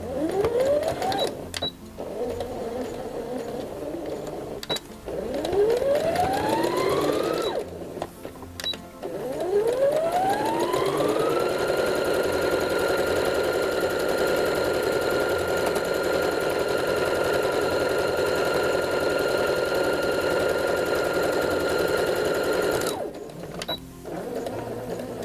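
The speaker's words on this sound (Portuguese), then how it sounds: "Agora, nós vamos costurar na linha, dando sempre retrocesso no início e no fim." A sewing machine stitches a sleeve hem with steady whirring runs that ramp up in pitch, interrupted by brief stops and clicks, then one long sustained stretch of stitching.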